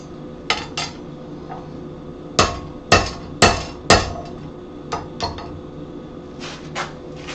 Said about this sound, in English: grab a smaller hammer, get our little square punch and start to work on punching the hole through